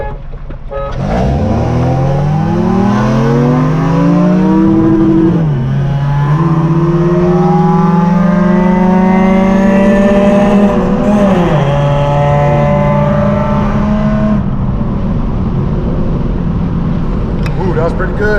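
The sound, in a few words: IS300 car accelerating while driving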